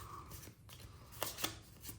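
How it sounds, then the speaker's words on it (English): Clue board game cards, Dr. Seuss Grinch edition, are shuffled by hand. The sound is soft, close papery riffling and flicking with a couple of sharper snaps, quiet and brief, with no talking. "So you take these and you give them a nice shuffle."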